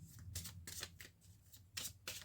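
Tarot cards are shuffled for a reading, a quiet riffling in several quick bursts, close and alone with no talk.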